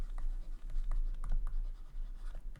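A pen scratches out an integration solution on paper for a class 12 NCERT maths exercise, making close, quick irregular strokes and taps that run steadily without talk.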